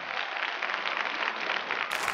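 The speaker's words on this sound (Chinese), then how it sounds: "再次把掌声送给他们" An audience at a televised street dance competition breaks into steady, dense applause, a continuous patter of many hands clapping at moderate loudness throughout, with no distinct voices.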